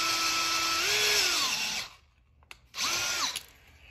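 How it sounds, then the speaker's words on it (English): A power drill whines steadily at high speed, its pitch sagging as it bites into a stripped bolt hole in metal, stops briefly, then spins up again for a shorter burst. "the first thing we need to do is drill out this hole to prepare it for the tap"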